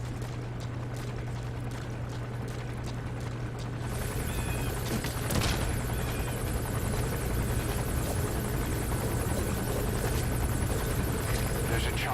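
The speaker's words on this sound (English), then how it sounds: "The chopper will be arriving any minute." A helicopter in Metal Gear Solid V: The Phantom Pain approaches with a steady rotor thrum and engine whine, growing louder and fuller partway through and holding at close range.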